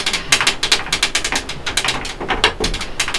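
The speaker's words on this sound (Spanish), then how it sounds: "Lo que suena en lo metálico es el pestillo haciendo pa pa pa pa pa pa pa pa pa pa." A metal door latch, pushed by the wind, rattles in fast, uneven bursts of bright clattering taps, close by and with no voices.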